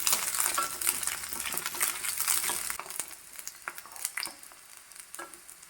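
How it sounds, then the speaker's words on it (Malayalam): Sliced okra sautéing in hot oil in a pan, loud crackling sizzle with busy stirring and scraping that thins out partway through into scattered pops and taps. "എണ്ണ ചൂടായ ശേഷം വെണ്ടക്ക മുറിച്ചത് ഇതിലേക്കിട്ട് നന്നായി ഒന്ന് വാട്ടിയെടുക്കാം."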